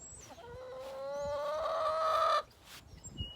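A Barred Rock chicken lets out one drawn-out, rising cluck-cry up close, with fainter fowl sounds around it and no talk.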